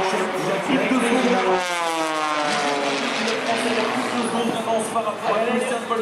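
A Red Bull Air Race propeller plane roars overhead at Cannes, its engine pitch sweeping as it passes, loud and sustained under amplified commentary.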